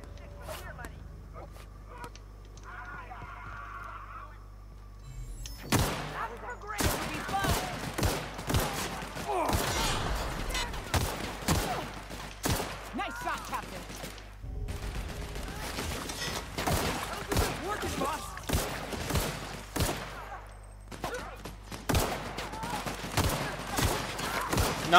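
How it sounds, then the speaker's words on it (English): Pistol fire in The Outer Worlds: after a quiet opening, a long string of loud sharp shots comes in irregular clusters, sometimes rapid, sometimes spaced, with someone talking between and over them. "Let's try taking the pistol, see if we can get any long distance kills."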